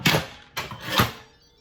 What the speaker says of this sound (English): You close the lid.